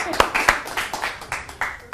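A magic show audience gives a round of applause for an assistant named Emily, scattered claps of moderate loudness mixed with a voice talking over them.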